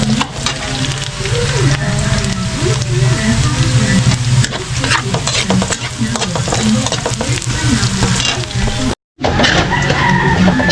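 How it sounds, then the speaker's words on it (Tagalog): Ginisa sautéing in a pan for beef adobo, a steady loud sizzle with scraping stirs running almost throughout, broken by one brief silent gap near the end. "Ngayon pakita ko sa inyo yung ating ginigisa."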